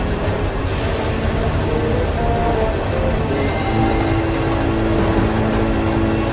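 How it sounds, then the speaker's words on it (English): A subway train runs along the rails, a steady loud rumble with a high metallic wheel squeal rising partway through, continuous and close. "We can make this subway keep moving without stop to the other stations in that room."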